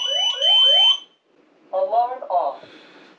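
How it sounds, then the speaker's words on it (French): An electronic smoke alarm triggered from the basement sounds a shrill, sweeping tone, then a synthesized French voice announcement follows. "alarme de fumée déclenchée par le sous-sol"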